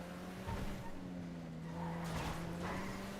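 A small car drives past on a street, its engine hum steady and fairly close, with a brief brighter swell of tire and road noise toward the end.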